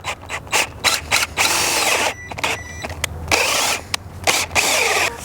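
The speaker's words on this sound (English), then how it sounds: "I know this drill is undersized for this bit" An undersized cordless drill strains while boring with a large bit for a blackberry trellis, its motor whirring loud and close in repeated bursts that start and stop, with brief pauses between pushes.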